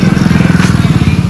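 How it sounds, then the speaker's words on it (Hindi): Tractor engine straining under heavy load while pulling through sand, a loud, steady rhythmic chugging with a deep throbbing pulse that runs throughout, near and alone with no talk. "यहाँ पे पूरा जोर लगा ट्रैक्टर का"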